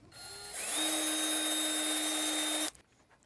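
A power drill with a small bit, no more than 1/16 inch, spins up and bores a pilot hole in PVC pipe, making a close, steady high whine for about two seconds before it stops sharply.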